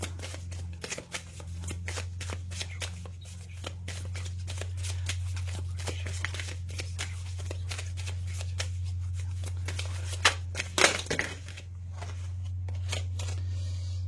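Tarot cards shuffled steadily and continuously for about fourteen seconds, a close, dense stream of soft riffling and slapping with a few sharper snaps near the end, over a steady low hum.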